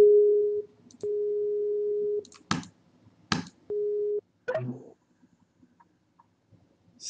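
Telephone tones while placing a phone call: long steady beeps broken by gaps, with a couple of sharp clicks and a brief rustle, close and fairly quiet, no speech.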